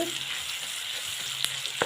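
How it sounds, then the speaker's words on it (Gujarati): Onions sautéing in butter give a dense, steady close-up sizzle with a couple of sharp spatula taps near the end, no voices. "સરસ મજાની આપણી બટરના ડુંગળી શેકાય છે।"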